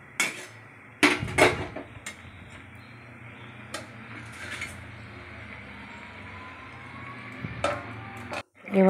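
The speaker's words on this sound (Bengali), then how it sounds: "খুন্তি দিয়ে নাড়াচাড়া করে নিলাম" Chicken and spices stirred in a pot with a metal spatula: a few sharp clinks and scrapes near the start, then softer intermittent scraping over a steady low kitchen hum.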